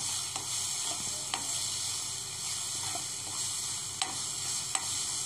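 Masala with coriander powder frying in a pan for paneer gravy, a steady close hiss of sizzling with occasional sharp pops and light stirring taps throughout.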